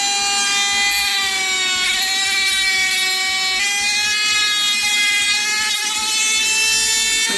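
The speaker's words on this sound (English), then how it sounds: "So we're going to take it over to the grinder and grind that off." A bench grinder taking an edge off a small manufactured part gives a continuous loud, high-pitched whine with steady harmonic tones and a slight pitch shift as the part is pressed to the wheel, running alone without pause.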